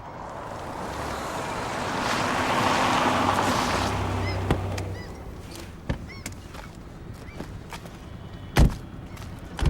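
Boat on open water with waves washing and wind: a broad swelling rush that builds and then eases, followed by quieter lapping with scattered sharp knocks and clicks near the end.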